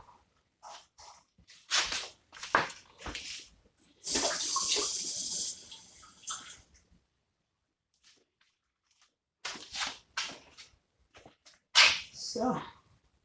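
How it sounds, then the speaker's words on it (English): While making orange sorbet, a steady burst of running water rinses sugar residue from a container for a few seconds, set among scattered kitchen clatter, sharp knocks and quiet gaps. "I need to rinse this residue off with a bit of water."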